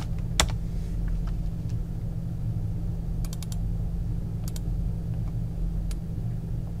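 Someone types on a computer keyboard. Scattered, sparse keystrokes tap in small clusters over a constant low hum of background rumble.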